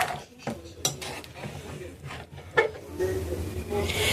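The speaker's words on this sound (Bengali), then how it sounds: "একটু নাড়াচাড়া করে দিই।" Date palm jaggery is stirred in a pan, with scraping and clinking of a utensil against the pan in irregular strokes, close up, and some low background noise.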